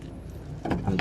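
A ratchet wrench clicks against a 17 mm bolt being loosened on a Hyundai Eon engine, a short burst of close metallic ratcheting with a few quick clicks near the end.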